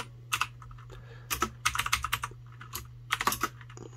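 Close, crisp keystrokes on a computer keyboard come in quick irregular bursts with short pauses between them, set over a faint low electrical hum.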